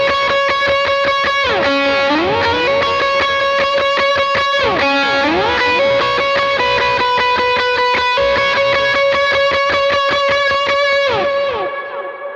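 A loud, driven electric guitar plays the bridge of a song, with sustained ringing notes and repeated slides up the neck, thick with effects and fading at the end, no voices.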